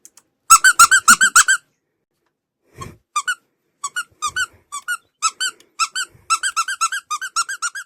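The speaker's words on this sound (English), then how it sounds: "Sorry, I realized that the squeaking probably got loud." A squeaky toy squeezed repeatedly, producing loud, close, high-pitched squeaks in quick bursts of several with short silent pauses between groups.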